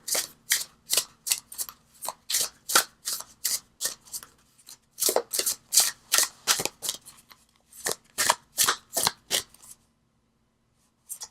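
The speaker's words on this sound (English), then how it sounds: "Okay, keep shuffling." A rapid run of crisp riffling bursts, tarot cards shuffled again and again in quick rhythmic bunches, close and clear, ending after a short pause.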